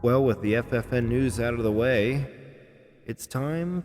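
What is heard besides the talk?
No everyday noise stands out behind the speech.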